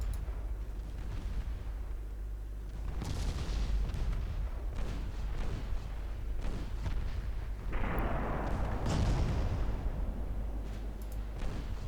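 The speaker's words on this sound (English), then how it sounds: "Qinghai is taking a beating from all their 5-inch guns" Naval gunfire in a 1962-era Ultimate Admiral Dreadnoughts sea battle, with 5-inch guns pounding the Chinese ship Qinghai: steady booming artillery rounds and rumbling blasts that roll on continuously, loud and close, with no voices over them.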